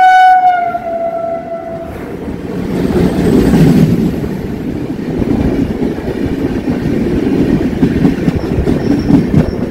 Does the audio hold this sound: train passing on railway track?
yes